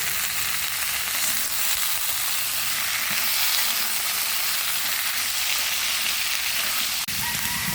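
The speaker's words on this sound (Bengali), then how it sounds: "তো এখানে আমি পেঁয়াজ আর গোটা জিরা দিয়ে দিছি, লাল লাল করে ভাজা নিছি।" Onion and whole cumin fry in oil in a wok, producing a loud, dense, continuous sizzle with occasional stirring scrapes and a sharp clink near the end.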